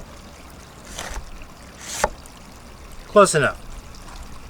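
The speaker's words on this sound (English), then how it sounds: "Let's open the valve, get rid of the air." Water and trapped air rush out in a few short gushing bursts as the valve on a Sluice Goose gold recovery unit is opened, with a brief spoken remark among them.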